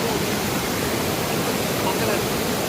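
Kalu waterfall in Malshej Ghat roars in a steady, loud wash of falling water, constant throughout, with faint voices blended into the rush.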